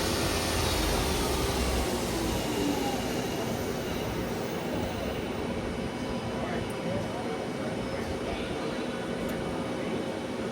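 A 2008 HURCO TM-10 CNC lathe turning center runs its spindle at 3000 RPM, producing a loud, continuous whirring roar that holds steady throughout.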